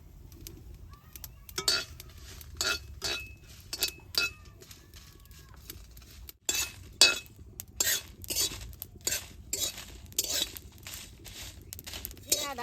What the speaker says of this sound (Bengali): শুকনা খোলায় কয়টা জিরা আর কয়টা মরিচ ভাইজে নেব।